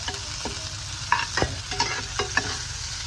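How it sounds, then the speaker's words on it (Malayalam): Small onions and curry leaves frying in a pan for a ginger kichadi, a soft sizzle under sharp clinks and scrapes of a spoon stirring against the pan, several distinct knocks spaced through the clip. "ഇനി ആ ചെറിയ ഉള്ളി ഇട്ട് കൊടുക്കണം. ചെറിയ ഉള്ളി നല്ല മൂക്കണം."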